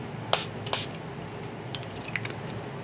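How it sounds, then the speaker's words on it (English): A small spray bottle of water for watercolor painting gives two quick, close spritzes in a row, then another faint puff, with quiet room tone between. "So just a little spray bottle of water."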